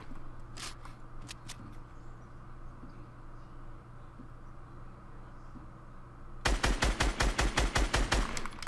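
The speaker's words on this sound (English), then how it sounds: "How did none of those shots hit?" Rapid burst of about a dozen loud Fortnite gunshots in close succession near the end, following a quieter stretch with a few faint distant shots and game ambience.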